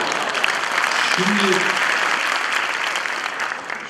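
Audience applause at a Düzce University student club event, a steady broad wash of clapping from a crowd filling the whole moment, with a voice speaking briefly over it.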